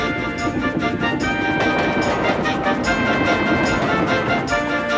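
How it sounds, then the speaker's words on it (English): Steam engine's train rushing past on the rails, a loud, steady dense rumble with rhythmic clatter filling the whole stretch without pause. "Gordon's train rocketed past and was gone."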